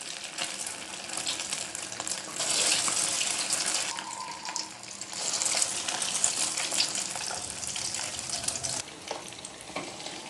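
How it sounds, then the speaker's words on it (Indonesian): Tofu coated in rice vermicelli frying in hot oil, a steady loud crackling sizzle with bursts of popping and spattering that swell and ease over about ten seconds, no voice. "Ini minyaknya udah panas, saya goreng seperti ini."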